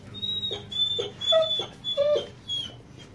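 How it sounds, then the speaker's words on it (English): A dog whimpers and yips in high, thin bursts close by, with several short rising cries and whines spread over a few seconds and no talking. "My dog's right here."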